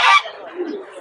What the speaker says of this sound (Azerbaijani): Hinduşkalar 40 manata.